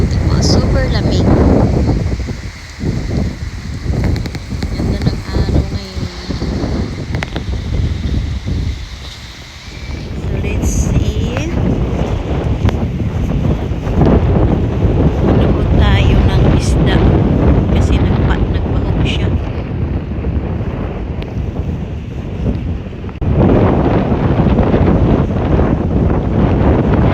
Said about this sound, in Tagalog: Yung hangin tingnan, super lamig.